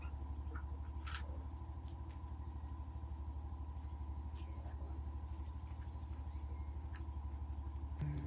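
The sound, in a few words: motorcycle engine arriving home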